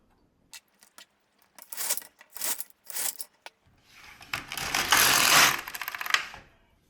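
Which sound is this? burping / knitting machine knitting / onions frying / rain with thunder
knitting machine knitting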